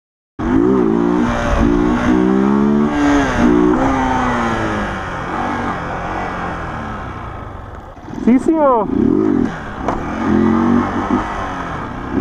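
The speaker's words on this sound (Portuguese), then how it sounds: "A moto é forte, mano." A motorcycle engine revving hard near a wheelie-practice spot, its pitch climbing and dropping in long sweeps, with a sharp burst late on and someone talking briefly over it.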